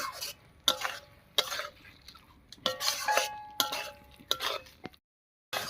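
Stirring banana flower curry (mochar ghonto) in a pan, a spatula scraping and clinking against metal in a series of sharp strokes with short pauses, moderately close and alone.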